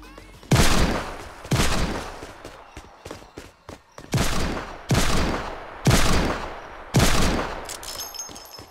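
Scoped revolver firing in a video game, with a sound like a Desert Eagle mixed with an old revolver: six loud, sharp shots at an uneven pace, with softer clicks and handling noises between them.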